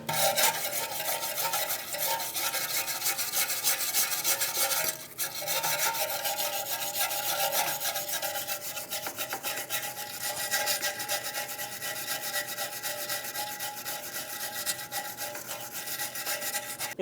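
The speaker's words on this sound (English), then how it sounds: "We're going to use a wire brush and we're going to clean all of the rust and corrosion." Wire brush scrubbing rust and corrosion off the parking brake parts of a 2010-2015 BMW X1 xDrive, a steady, loud, continuous rasping scrub that runs unbroken for the whole stretch, close up with no talking.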